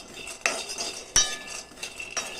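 Peanuts roast on low heat in a kadhai while a metal spoon stirs them, producing a few distinct scraping clanks and rattles over a quiet, dry rustle.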